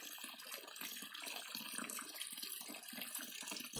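Hands washed with soap under a running tap of clean water, a steady broadband splashing rush continuing evenly throughout with no talk.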